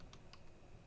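Keys clatter on a computer keyboard in a few quick, faint taps spaced irregularly over a steady background hiss, with no talking.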